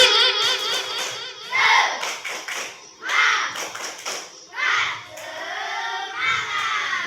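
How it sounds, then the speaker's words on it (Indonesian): A school classroom doing a rhythmic encouragement clap, children clapping in patterned bursts mixed with shouted chanting voices throughout, loud and close. "tepuk semangat dulu ya, beri semangat ya"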